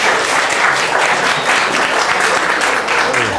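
Audience applause at an art fair talk show, a steady, dense clapping from a live crowd that holds at full strength throughout, close and loud with no voices over it.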